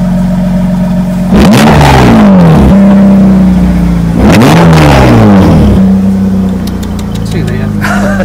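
A standard 2-litre car engine at a cars-and-coffee meet revs twice from idle, each rev rising and falling loudly up close over a steady idling drone, with background noise throughout.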